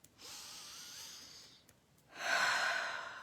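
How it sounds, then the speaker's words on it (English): Slow, deep breaths during a guided morning meditation: a long airy exhale, a pause, then a louder, fuller breath, close to the microphone with no talking. "Breathing deeply and easily."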